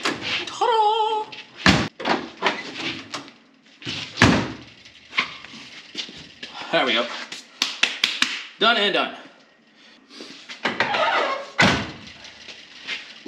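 Car doors on an old Chevrolet Bel Air being shut, giving a few solid thuds spread apart amid shuffling and handling noises, with people talking close by between the slams.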